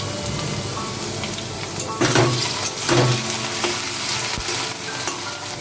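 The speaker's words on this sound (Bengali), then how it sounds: "বাদাম ভেজে তুলে রাখার পর আলুগুলো ভেজে নিচ্ছি" Small potato pieces deep fry in oil with salt and turmeric, giving a dense, close, continuous sizzle with a few louder bursts of stirring and scraping.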